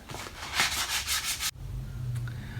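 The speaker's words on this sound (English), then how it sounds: "now I'm using 180 to sand it" A wooden spoon carved from a tree limb is hand sanded with 180 grit sandpaper: several close, rhythmic rasping strokes that stop abruptly, leaving a low, quiet hum.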